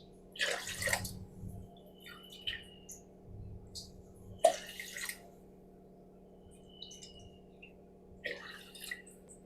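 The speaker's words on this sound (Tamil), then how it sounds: "இப்போ தண்ணி ஒன்றுக்கும் அளந்து ஊற்றுவோம்" Water is measured and poured into a pot for pongal in short bursts, three separate pours with quiet pauses between, close by, with faint clinks of a vessel.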